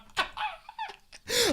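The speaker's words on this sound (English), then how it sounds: "Oh, dog." A dog in a period TV drama lets out a few short, sharp barks and yips at moderate volume, separated by brief gaps, with a final louder, drawn-out whine-like bark.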